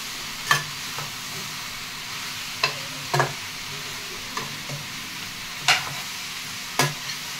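Round slices of bitter gourd, two kilos of them, frying in a pan as they are stirred, giving a steady soft sizzle broken by several sharp scrape-and-clatter bursts at uneven intervals.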